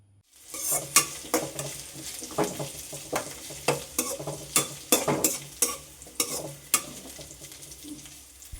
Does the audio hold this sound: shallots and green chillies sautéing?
yes